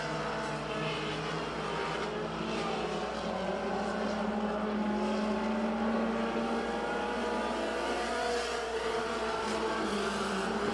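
Pure stock race cars roar around the oval at County Line Raceway, a steady, distant wash of engine noise with no break and no voices.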